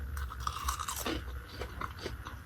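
Close crunching and chewing on Cajun fries fried in leftover steak fat, several crisp bites and mouth sounds over about two seconds, with no talking.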